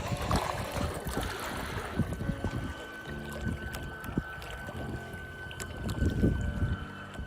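A model carp bait boat fitted with a Deeper sonar mount motors across water, producing a steady low churning and splashing wash close by with no talk.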